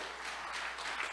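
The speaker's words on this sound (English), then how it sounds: "Give yourselves a round of applause." Brief burst of audience applause in a gathering, a short and fairly faint patter of many hands clapping together.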